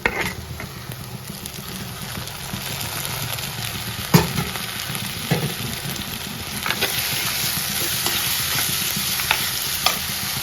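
Tomatoes go into onions sautéing in a pan for kadala curry. A continuous sizzle runs under repeated scraping stirs, with a sharper knock partway through, all close up and without speech.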